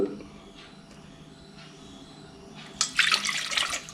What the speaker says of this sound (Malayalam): ഈ ഒരു കപ്പ് വെള്ളം ഒഴിച്ചു